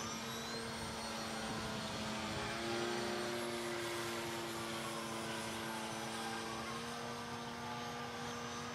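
An RC prototype model airplane flies and comes in to land, its motor giving a steady, droning whine that holds fairly even in pitch and loudness for the whole stretch, with no voices.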